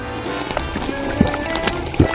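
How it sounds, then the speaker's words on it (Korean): Cola gushes out like a waterfall in a chaotic kitchen scene. It makes a continuous close splashing pour with a couple of heavier splats, set over a busy tonal background. "콜라가 오박처럼 쏟아져."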